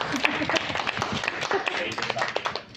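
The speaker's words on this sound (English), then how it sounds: "Let's all give him a round of applause." Audience applause at a Toastmasters club meeting, a dense steady wash of many hands clapping close by, tapering off near the end as a speaker is welcomed back to the floor.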